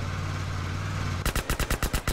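Gunfire in GTA San Andreas: after a low steady rumble, a rapid burst of about eight loud, evenly spaced shots cracks out in quick succession, close and sharp.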